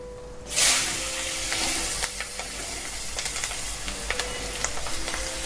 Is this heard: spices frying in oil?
yes